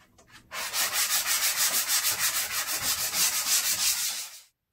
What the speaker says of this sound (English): Got it all sanded down.